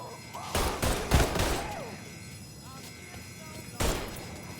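Gunfire erupts in the Mafia 3 video game: several sharp, loud bursts of shots, including a rapid cluster and a final lone blast, while voices shout between them.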